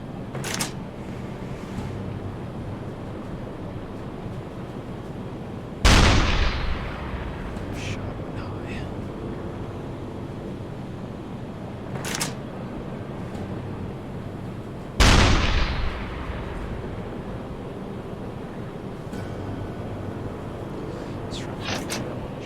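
Deck gun fire in the submarine game UBOAT: two loud, booming shots about nine seconds apart, each with a long rumbling decay, plus some fainter sharp cracks, over a steady background with voices talking.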